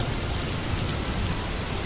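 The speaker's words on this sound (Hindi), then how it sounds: "बारिश थमने का नाम ही नहीं ले रही थी" Steady cartoon rain in a downpour that won't let up, heard as an even, dense hiss of falling drops with no other sounds or voices.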